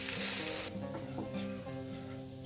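Poha, flattened rice, being stirred and mixed in a hot pan, with a steady soft sizzle and quiet scraping of the spoon, close and alone.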